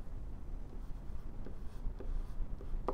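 Pen or pencil writing numbers on paper during a precalculus worked example, a steady close scratchy rustle lasting a few seconds with no talk over it.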